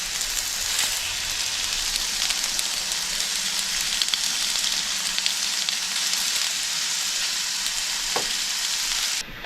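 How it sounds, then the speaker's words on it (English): Sausages and breakfast hash sizzle and crackle steadily on a camp grill at a provincial park campground, a dense, close frying hiss with no talk over it. "Alright, throw some sausages on here."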